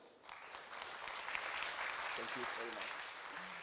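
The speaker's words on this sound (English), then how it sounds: "Give applause again for Dr. Mozani." An audience applauds after a lecture at an academic event. Clapping swells to a sustained, fairly distant patter from a room, while a voice on a microphone speaks over it briefly near the end.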